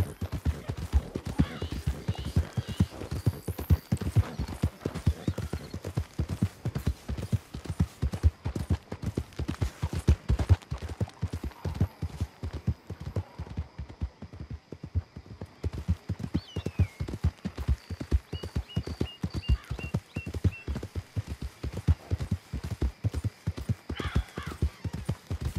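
A horse's hooves in the Red Dead game clip-clop in a steady, quick rhythm throughout, with faint game sounds and an occasional whinny-like tone in the background.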